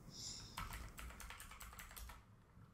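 A search is typed on a computer keyboard as a quick, steady run of light key clicks, close but quiet.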